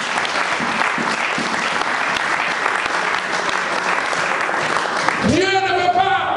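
A church congregation claps together during a sermon in a dense, sustained burst of applause, and a tonal, voice-like sound rises near the end.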